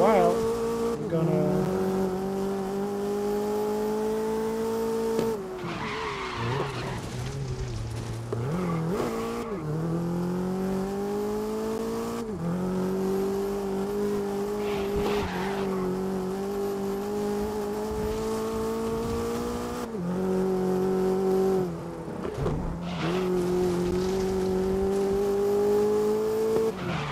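Race car engines in the racing video game GRID roar and rise through the gears with repeated upshifts, brief tire squeals and passing cars, loud and continuous across the race, with a voice speaking over parts of it.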